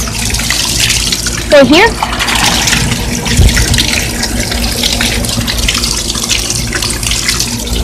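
Water rushes steadily into a homemade toilet tank refilling after a quarter-turn valve is opened, a continuous hiss and trickle close to the microphone, with a brief voice speaking over it.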